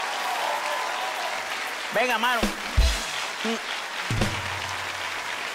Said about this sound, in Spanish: que un aplauso,